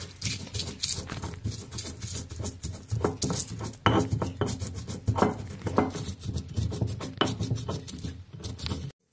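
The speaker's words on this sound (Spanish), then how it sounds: "Vamos a empezar a moler el chile baraña con un poquito de sal." Dried guajillo chile is ground with a little salt for salsa, a rapid irregular series of gritty knocks and scraping rubs, close and busy, with brief pauses.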